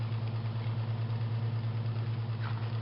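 A BMW E39 car engine idles after warming up, a steady low rumble with a faint regular pulse, close by and alone.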